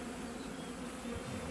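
Honey bees pour out of a hive during an artificial swarm, a dense and steady buzzing hum throughout.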